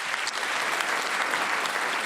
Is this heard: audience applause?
yes